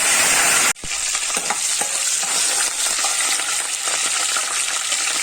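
Fenugreek, cumin, mustard seeds and curry leaves hit hot oil with a sudden burst, then settle into a loud, continuous close sizzle and crackle, with occasional stirring.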